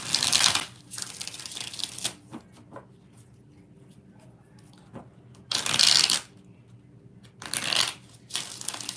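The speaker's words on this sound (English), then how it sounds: "2 more shuffles" A deck of tarot cards is shuffled in four quick riffling bursts, separated by quiet pauses with light handling sounds.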